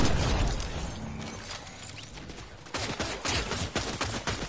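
Enemy gunfire in a video game crackles in sporadic shots at first, then erupts into a dense, rapid fusillade of sharp bursts that grows louder and more continuous toward the end.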